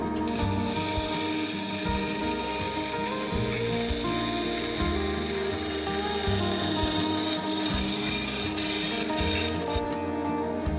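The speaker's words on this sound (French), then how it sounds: "Je me sers de ma petite scie à ruban pour nettoyer les bavures de colle." A small band saw whines and rasps steadily through wood, trimming off glue squeeze-out, its pitch shifting slightly as it cuts, close and continuous with no talking.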